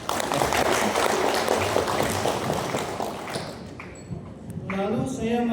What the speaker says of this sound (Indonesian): Tepuk tangan dong untuk kita.